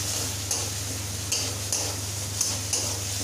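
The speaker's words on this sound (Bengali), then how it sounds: "আবার ভালোভাবে মিশিয়ে নিচ্ছি মশলার সঙ্গে" Katla fish pieces get stirred with spices in a pan, with a low steady hum underneath and five or six evenly spaced scraping clinks of the utensil against the metal.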